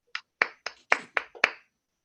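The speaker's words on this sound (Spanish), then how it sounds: "un aplauso" A handful of separate hand claps, about six sharp slaps in a loose uneven rhythm over two seconds, close and fairly crisp, at the close of a talk at a textile and design event, with no voices.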